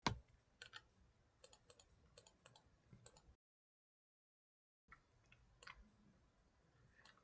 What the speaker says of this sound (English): Maybe if I type it.